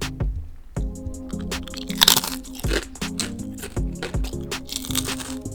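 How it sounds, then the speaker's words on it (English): Loud, crisp crunches repeat in quick succession, close up and alone, each bite a sharp brittle crack with a louder burst about midway. "still have that salty and satisfying crunch we love"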